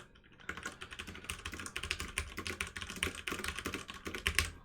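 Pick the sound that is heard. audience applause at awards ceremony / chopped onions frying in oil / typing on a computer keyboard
typing on a computer keyboard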